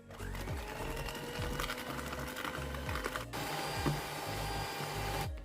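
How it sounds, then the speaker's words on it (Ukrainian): An electric mixer whirs steadily as it beats eggs and sugar for a rhubarb cake batter, a fairly quiet motor buzz with rattling beaters, briefly cut off and restarted. "Додаємо цукор і знову збиваємо міксером."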